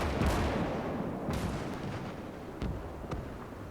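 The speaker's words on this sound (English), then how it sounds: "One of your vehicles is being targeted by enemy artillery." Enemy artillery fire in the World War II strategy game Gates of Hell, with a series of distant booming shots and thuds over a constant rumbling battlefield ambience.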